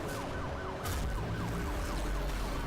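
A police car siren wails continuously with a repeating rising-falling sweep during a Need for Speed Hot Pursuit chase, loud and close, layered over roaring car engines.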